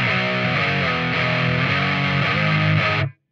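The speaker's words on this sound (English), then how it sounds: "Neck pickup sounds nice." A distorted electric guitar, a 2022 Dean V 79 on the neck pickup, plays a warm, thick chord sequence with a few changes, ringing loud and sustained before cutting off abruptly.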